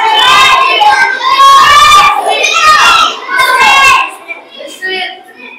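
Children shout loudly together in a school classroom during a maths lesson, a dense burst of overlapping young voices that fades into quieter chatter near the end.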